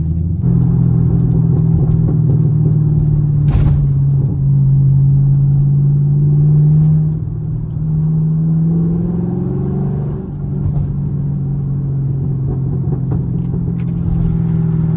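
Stock-exhausted Chevrolet Camaro SS with an LS3 V8 rumbling loudly nearby, a steady deep idle rising into a couple of brief revs and settling back, with no talk over it.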